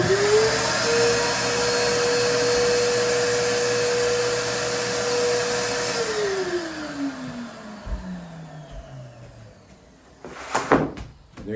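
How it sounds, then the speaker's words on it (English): A CNC router's vacuum hold-down pump runs loudly with a steady high whine, then winds down with a falling pitch, followed by a few knocks and rattles near the end. "so I'm going to hit this vacuum"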